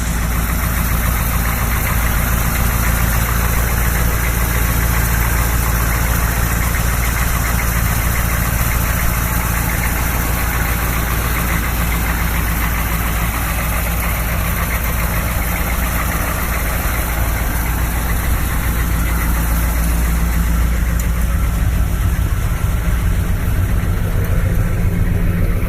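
A 1986 M1008 United States military truck on 37-inch Humvee tires idles with a loud, steady, rumbling engine drone and faint knocking, continuous and close throughout with no talk.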